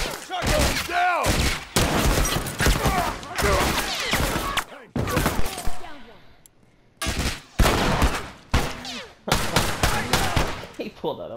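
Repeated shotgun blasts and gunfire in The Last of Us Remastered, loud and dense bursts in quick succession with short gaps, a voice speaking briefly among the shots.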